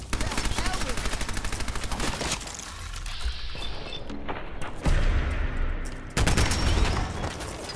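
Rapid automatic gunfire in the video game Fallout 4, fast bursts of loud cracking shots. Bursts start and stop, broken by quieter game noise and heavy thuds, then a last burst of fire.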